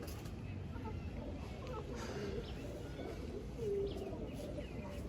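A male pigeon coos in low, soft, rolling murmurs. The sound is faint and sits under a dense, steady background rumble.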